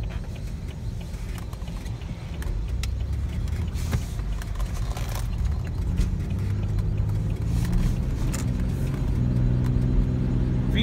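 A car engine rumbles and builds steadily as the vehicle speeds up along a residential street, the low drone rising in pitch toward the end, heard from inside the car.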